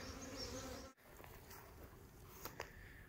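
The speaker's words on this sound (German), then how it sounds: "Die Bienen haben jetzt unten auch schon aufgemacht, die ersten kommen ein bisschen raus" Honey bees at a hive entrance at night in a garden, a faint continuous buzz with a short break and a few brief louder passes.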